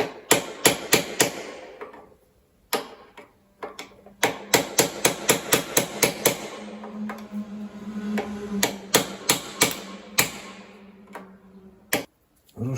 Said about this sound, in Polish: Zrobiłem taki mały ślad, żeby zahaczyć śrubokrętem czymkolwiek, żeby postukać.